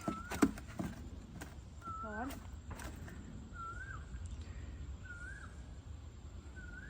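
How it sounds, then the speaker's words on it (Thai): Birds calling in open air beside a rice field on a calm, lightly breezy day, with a few repeated crow-like caws and chirps spaced out over steady outdoor background noise, with brief voice-like bursts early on. "ชอบบรรยากาศมากเลยลมเบาๆเสียงนกร้อง"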